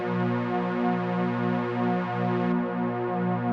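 A sustained synth pad shifts in stepped, random jumps as a sample-and-hold LFO modulates it, a steady drone with abrupt changes in tone, heard alone and close.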